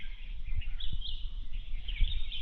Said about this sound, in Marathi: बॅकग्राऊंडला पक्ष्यांचे आवाज पण येतात खूप भारी भारी